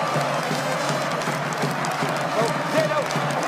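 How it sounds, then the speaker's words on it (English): A stadium crowd at a Leeds Rhinos versus Bradford Bulls rugby league legends match stands and applauds Rob Burrow, a dense sustained wash of clapping and cheering under a commentator's voice. "Everybody in the stadium standing to applaud Rob Burrow"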